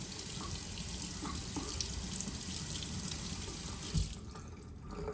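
Water runs steadily from a tap into a sink during handwashing, a constant close splashing stream that eases off near the end.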